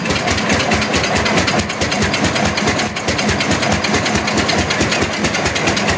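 Restored 1950s farm tractors roll past at a threshermen's reunion in Austin, giving a steady, loud, rapidly chugging engine rumble with a fast regular beat that holds throughout.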